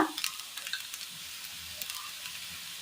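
A pinch of fennel seeds drops into grated coconut frying light golden in a pan, giving a soft, steady sizzle with small crackles and pops, quiet and close.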